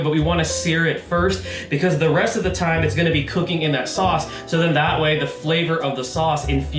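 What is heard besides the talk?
No everyday noises stand out.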